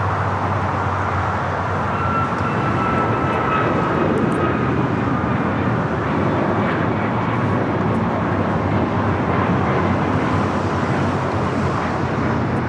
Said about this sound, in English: This is American Airlines 2388 taking off to Chicago on the MAX 8